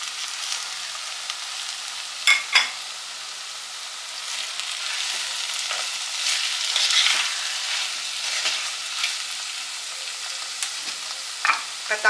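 Finely chopped medium tomatoes sizzling in oil in a pan for a prawn gravy, a steady soft frying hiss with occasional sharper crackles and the clink of a stirring spoon, no talking.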